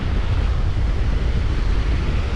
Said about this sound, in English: Well, we got the wind coming right at us now.